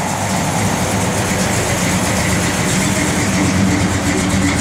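Engine of a 1969 Dodge Dart Swinger fitted with a performance cam, idling steadily with a deep, continuous rumble, loud and close, with no talk over it.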